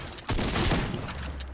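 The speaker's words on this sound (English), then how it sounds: "How do you like the new shotgun?" A shotgun blast in a video game, a single loud boom that rings out and decays across a short moment.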